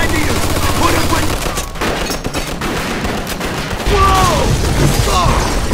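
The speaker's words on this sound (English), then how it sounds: "Looks like we found the machine gun." Machine gun fire in the video game Mafia II rattles in loud, dense bursts, with shouting voices rising over the gunfire near the end.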